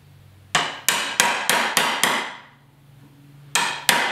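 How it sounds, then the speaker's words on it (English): Sharp hammer taps drive a chisel into wood while building a potato growing box: five evenly spaced strikes, a pause, then two more, each a crisp close knock with a short ringing decay. "Just kind of give it a little bit of a tap so that we've got a mark."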